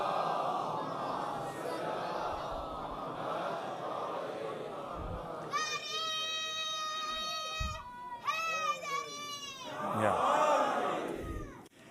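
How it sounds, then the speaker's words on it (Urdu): A majlis congregation of mourners at a Muharram gathering in an imambargah chants slogans in unison, with loud, rising group voices and sustained chant tones following a speaker's murmuring over a crowd. "یہ نعروں کی آواز ماشاءاللہ"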